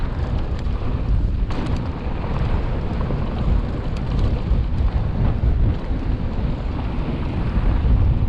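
Strong wind buffets a rider on a mountain bike trail descent in Ephraim Canyon, Utah, a steady low roar of gusts and microphone rumble running through the whole stretch without any talking.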